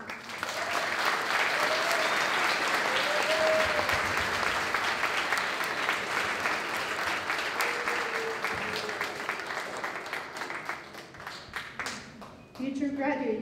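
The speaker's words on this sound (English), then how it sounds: "give a round of applause for your family" Graduation ceremony crowd gives sustained, loud applause and cheering for their families at a Merritt College LatinX commencement, thinning toward the end as a voice returns.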